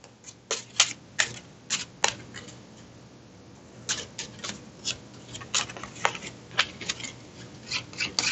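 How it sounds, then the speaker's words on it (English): Quiet, irregular clicks and riffles, like cards being shuffled by hand, come in scattered bursts close by with no talking. "I have to shuffle the demon deck."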